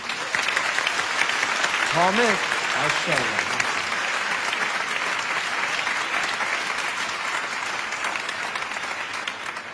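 An audience claps in sustained, loud applause that fills nearly the whole stretch, tapering slightly at the end, with a brief spoken voice breaking through near the start.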